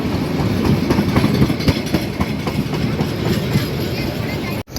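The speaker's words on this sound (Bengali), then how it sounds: "দেখি আর একটা ট্রেন আইতেছে" A packed Eid-holiday passenger train with people riding on its roof pulls into a station with a loud, continuous rumble and rhythmic wheel clatter close by, before cutting off abruptly near the end.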